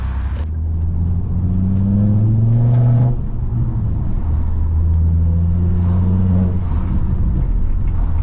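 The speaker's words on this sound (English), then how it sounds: "I was trying to catch some exhaust notes for you." A straight-piped, lowered Ford Mondeo 2.5T exhaust drones loudly nearby, a deep throbbing rumble that rises in pitch as the engine revs, eases off, then climbs again.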